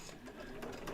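An embroidery machine stitches down a haunted house quilt block, a steady close whirring hum with a rapid mechanical pulse running unbroken through the short stretch.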